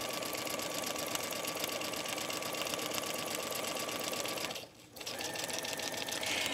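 A sewing machine stitches a zipper into knit fabric with polyester thread, its rapid needle rattle running steadily and close, pausing briefly for a moment before picking up again.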